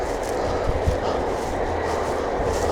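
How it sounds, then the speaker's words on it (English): Steady rolling roar of a six-car Class 195 Liverpool to Cleethorpes train going by near Stallingborough, close and continuous, with a couple of brief low thumps from the wheels partway through. "Liverpool to Cleethorpes train"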